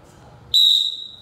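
A coach's single sharp whistle blast cuts through a quiet wrestling drill room, loud and steady for most of a second before tapering off.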